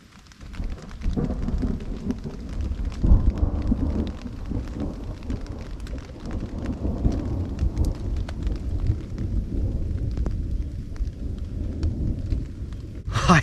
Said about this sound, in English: you should hear thunder here pretty quick